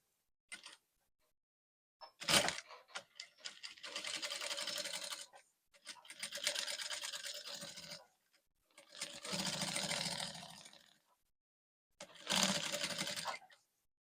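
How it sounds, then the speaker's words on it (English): Sewing machine stitching corset fabric with lace, several bursts of steady rapid whirring stitching separated by pauses, with a few clicks and handling noises between runs. "I'll take this to the sewing machine and sew it all around."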